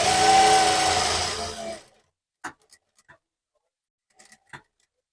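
A domestic sewing machine runs a steady stitching burst for almost two seconds, sewing a half-inch seam on a dhoti salwar, then stops, leaving only a few faint clicks and handling taps.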